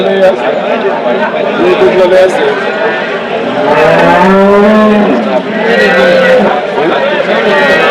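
A cow moos loudly and drawn-out at the Chakan cattle market, amid busy outdoor crowd noise, with people talking nearby throughout.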